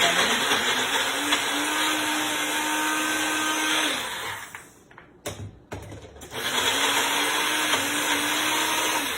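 Blender running steadily on chocolate avocado mousse, a loud continuous whir that stops briefly mid-clip for a pause, then starts again at full speed.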